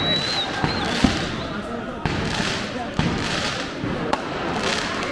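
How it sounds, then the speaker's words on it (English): New Year's Eve fireworks go off across the streets of Munich, sharp bangs at irregular intervals, some near and loud, over a busy crowd murmur with people talking. "People shooting fireworks off everywhere."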